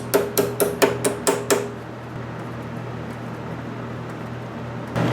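A hammer strikes a lawnmower's starter gear seven times in a quick, even series of close, sharp metallic knocks, then stops and leaves a steady low hum.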